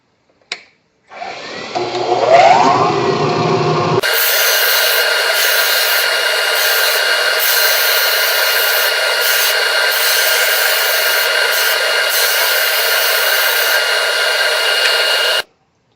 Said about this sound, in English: I need to use the disc sander and just relieve all the corners